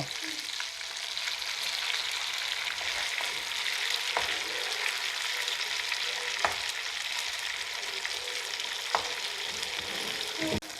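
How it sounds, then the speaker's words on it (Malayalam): Chicken pieces deep frying in hot oil, a dense, steady crackling sizzle throughout with a few sharp pops and light scrapes, close and even in loudness, no voice over it. "ഇവിടെ ചിക്കന് ചിക്കൻ ഫ്രൈ ആയിട്ടുണ്ട് ഇനി കോരി എടുക്കാം"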